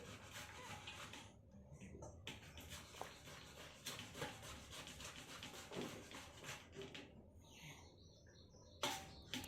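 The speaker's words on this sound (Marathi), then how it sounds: "मी आता सगळे बटाटे इथे किसून घेणार आहे पटपट किसून घेते" Potatoes grated by hand on a grater for sabudana vada, giving close, steady rasping strokes in a quick repeating rhythm, with faint bird chirps in the background.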